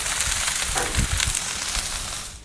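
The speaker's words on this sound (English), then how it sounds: "So I'm just cooking the onions until they're golden brown." Onions cooking on a Blackstone griddle as it is being seasoned, giving a loud, dense, steady sizzle with occasional scraping and stirring scuffs, close up, with no talking.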